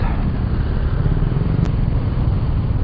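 A Suzuki Burgman Street EX scooter rides through city traffic, its engine and road noise a steady low rumble from up close, with no talking.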